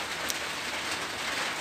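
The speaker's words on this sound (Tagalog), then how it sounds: "Malakas yung ulan." Heavy rain pours onto a roof as a storm darkens the sky, a dense, steady patter that holds at an even loudness throughout, with no voices over it.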